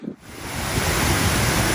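A small waterfall on a side creek in Iceland gives a steady, full rushing roar that swells in within a moment and holds loud and unbroken.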